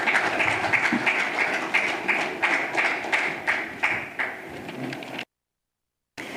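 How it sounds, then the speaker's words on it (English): An audience at a cricket competition media launch event claps steadily, the applause close and rhythmic for about five seconds before cutting to silence, then briefly resuming. "So can we give her a round of applause as she comes forward."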